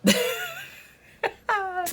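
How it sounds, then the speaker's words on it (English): A single sharp sneeze bursts out at the start, followed by two short voiced exclamations or laughs close by. "you sneezed on it"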